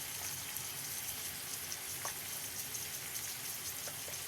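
Tomatoes frying in a pan for a quick tomato pickle, giving a steady soft crackling sizzle throughout with occasional faint pops, no voices.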